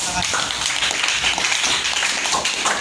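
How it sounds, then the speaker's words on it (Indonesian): A burst of group clapping fills a classroom, dense and fairly loud, with voices mixed underneath. "Tepuk tangan dulu"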